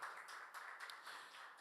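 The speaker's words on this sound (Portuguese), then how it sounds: "Gente, por favor, uma salva de palmas para o Carlos Afonso." A small audience claps at a panel on artificial intelligence. The brief clapping is faint and distant, with uneven bursts lasting under two seconds.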